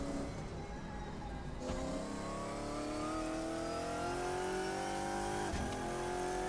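A GT1 race car engine in Assetto Corsa, loud and continuous, revving upward through the gears with rising pitch and a brief dip at each shift, with no talk.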